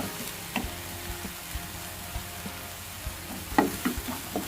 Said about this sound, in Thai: ผัดให้หอมเลย หอมใหญ่